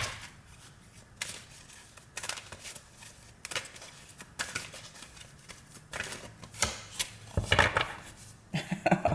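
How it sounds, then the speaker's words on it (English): Tarot cards being shuffled at a reading, with a series of papery riffling and slapping bursts that come in uneven clusters, fairly close and moderately loud, with no talking over them. "Let's get a few cards here and see what we come up with."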